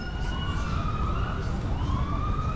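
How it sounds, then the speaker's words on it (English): Emergency vehicle sirens wail in a city near Fort Lauderdale Beach, rising and falling tones carried over a steady low rumble of traffic and wind, moderately distant and continuous. "You hear the emergency vehicles."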